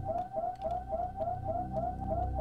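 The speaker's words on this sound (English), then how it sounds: "I got the freaking siren on now" An alarm siren in the game Super Metroid wails in a fast repeating rising sweep, about six cycles, loud and steady over a low electronic hum.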